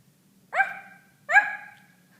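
A person imitates a dog with two short, well-spaced barks, each with a sharp onset and quick fade, close and clear over a quiet low hum.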